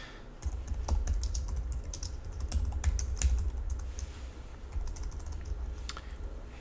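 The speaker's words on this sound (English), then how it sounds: "the various types of symbols that I use on my keyboard" Steady typing on a computer keyboard during a C# programming lesson, a continuous run of close, quick key clicks with an irregular rhythm and no voices.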